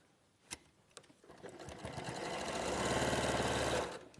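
A sewing machine stitching a diagonal line across fabric squares, starting after a couple of soft clicks, then running in a fast, even, rattling whir that builds and holds before stopping abruptly.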